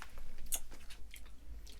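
American chewing gum is chewed close to the mouth, producing soft, wet squishing and smacking sounds in an irregular rhythm with a few sharper clicks.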